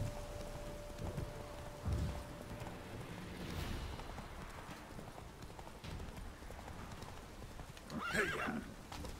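Roach, the horse in the video game The Witcher 3, whinnies and trots: faint clip-clopping hooves with soft rustling, then a clear, close whinny bursts out near the end.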